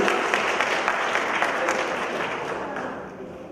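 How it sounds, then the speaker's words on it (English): Applause from a room of teachers at a superintendent's morning meeting, sustained clapping that holds steady and then gradually thins and fades toward the end, with no voices over it. "Give him a round of applause."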